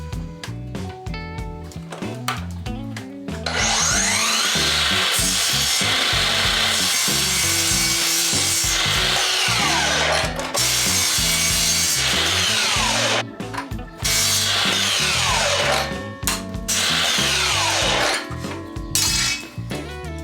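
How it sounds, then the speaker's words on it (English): A power saw grinds through steel flat bar, cutting it into short pieces; a loud, continuous, harsh whine with a dense metallic rasp holds almost without pause, dropping out only briefly between cuts. "I'm going to cut 4 pieces of flat bar at 60 mil"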